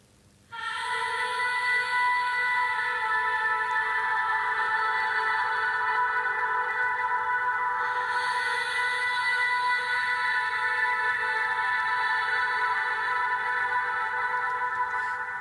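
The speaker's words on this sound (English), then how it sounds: "I drown the vocal in reverb" A sustained, washed-out vocal tone floats in a thick wash of reverb, forming a steady ambient pad that holds evenly throughout with no talking.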